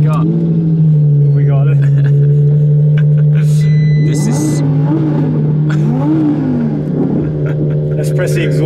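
Audi R8 V10 Plus engine revving and accelerating on a hill run in a procession, a steady loud drone with rising rev sweeps midway, heard under continuous talk from inside the car.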